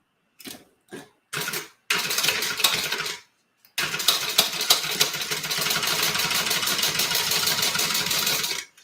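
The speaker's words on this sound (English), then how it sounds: "let's get this sewn" A sewing machine stitches Italian leather, first in three short bursts with pauses, then in two long runs of fast, steady mechanical whirring and clatter, close and loud with no talking.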